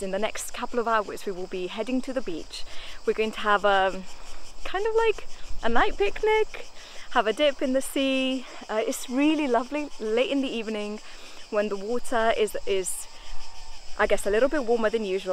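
A drone flying nearby in the Italian countryside gives a thin, steady buzz in the background, mostly masked by a person talking continuously in the foreground.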